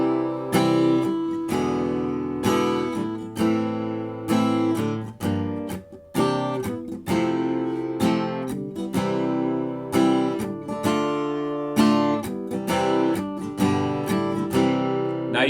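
Acoustic guitar in standard tuning strumming the chords of a song in a steady rhythmic pattern, close and full with clear chord changes. No one speaks.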